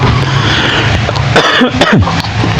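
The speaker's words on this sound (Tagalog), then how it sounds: "Kaya medyo inuubo ako ngayon, kaya ipagpaumanhin nyo po." A person coughs a few times up close in short, harsh bursts against a steady backdrop of noise.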